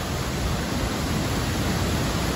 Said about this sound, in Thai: นี่คือน้ำตก